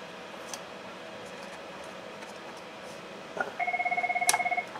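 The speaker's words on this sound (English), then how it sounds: "Oh, phone's ringing." A telephone rings indoors in a workshop, a short burst of rapid trilling electronic rings after a quiet stretch of room tone, fairly close and clear with no talk over it.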